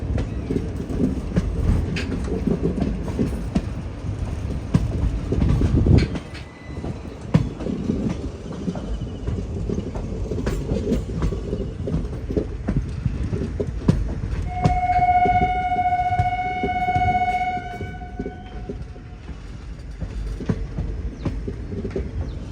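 Chemmozhi Express, a locomotive-hauled sleeper train on the Coimbatore to Mannargudi route, rumbles steadily along with continuous wheel noise and rhythmic clatter, a long horn blast sounding midway, and faint birdsong nearby.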